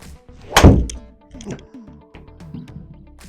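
A golf club strikes a ball on a long par-4 hole in a Square Golf simulator, giving one loud close thunk followed by fainter knocks and light room noise.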